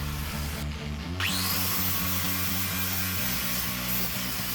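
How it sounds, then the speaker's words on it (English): A power sanding disc whines against sharp metal edges on an Alfa Romeo 145 Cloverleaf during restoration, a steady motor hum that rises in pitch and stays close and loud, grinding on without talk. "now onto my sanding disc, just to get rid of any sharp edges"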